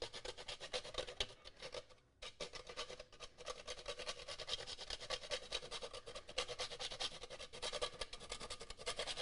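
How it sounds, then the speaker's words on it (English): Whole nutmeg is grated for a buttermilk pie, giving a continuous, quiet rasping scrape with steady back-and-forth strokes and one short pause. "We're going to grate some nutmeg."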